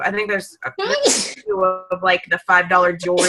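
A single sharp sneeze bursts out mid-conversation, loud and close, between stretches of someone talking.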